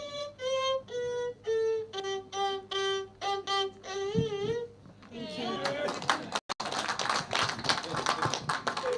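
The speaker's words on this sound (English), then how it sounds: "A clap for them again" A live audience at a Kenyan cultural heritage event applauds the Jukwa Arts performers. Sung or chanted voices come first, then dense, steady clapping swells up close and carries on to the end.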